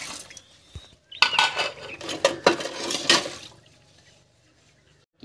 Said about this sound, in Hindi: बर्तन जो है हम धो लेते हैं।